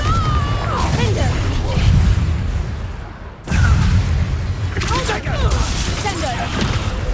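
Confringo spell blasts in Hogwarts Legacy, heavy booming explosions and crackling debris in two loud bursts with a short gap between them, while a voice shouts over the action.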